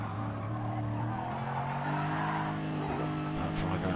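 Race car engine from a Gran Turismo-style Gr3 racing game at Fuji International Raceway, a steady droning whine that shifts pitch as the car drifts out of a turn, with faint tire squeal and a commentator talking over it.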